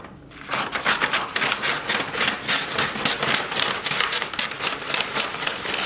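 Packing tape on a shipping box rasps in a rapid, evenly pulsing run of loud, close crackling bursts as it is worked and cut, with no voices.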